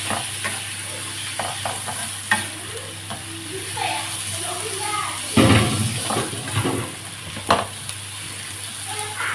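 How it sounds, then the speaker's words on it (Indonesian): Bamboo shoots that were boiled first go into a pan and are stirred, with wet scraping and clattering, a soft sizzle and a louder splash-like burst partway through, while a person talks quietly. "Saya masukkan rebung yang sudah dimasak dulu ya,"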